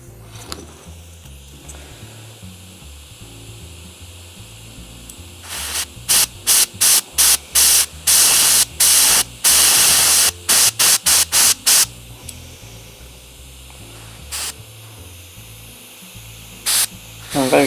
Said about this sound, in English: I'm very close to the model now with the airbrush